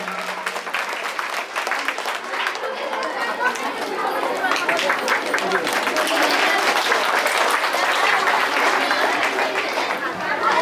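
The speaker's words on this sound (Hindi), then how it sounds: "विशेश्वर सर के लिए एक बार बहुत जोरदार तालियां हो जाए" Loud, sustained applause from a school audience honouring a teacher, with a crowd's chatter mixed into the steady clapping throughout.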